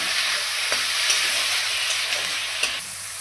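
Tomatoes frying with onions in a hot pan give a loud, steady, close sizzle throughout, broken by a few faint scrapes of a stirring utensil.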